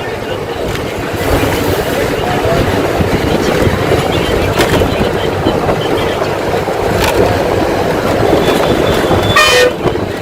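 A train on the Salem–Bengaluru line via Dharmapuri, Tamil Nadu, rumbling past at close range, a loud continuous roar with clattering wheels and a brief horn toot near the end.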